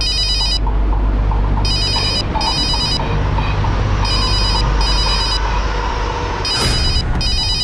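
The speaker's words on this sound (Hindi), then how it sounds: "ये किसका फोन है?" A telephone bell rings in repeated bursts of two rings, loud and close, over a steady low background hum, with no talk during the ringing.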